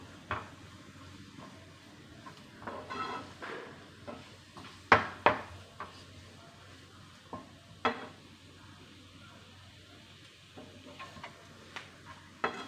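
Curry leaves and chillies frying in oil in a pan while cooking bread upma, a faint soft sizzle under sharp scattered clicks and taps of a spoon against the pan.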